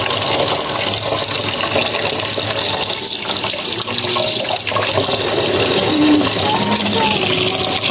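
Water runs into a container to soak a very dirty gas stove burner with soap. A steady, close gush of flowing water fills the whole stretch, with a faint voice in the background.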